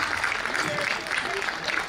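Audience clapping at a Hindi comedy poetry gathering, a steady wash of applause from a crowd lasting throughout, with a voice speaking faintly beneath it.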